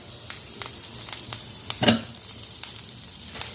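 Garlic, green chili and curry leaves frying in a pan, a steady close sizzle with scattered pops and a single louder stir or toss near the middle, no voices.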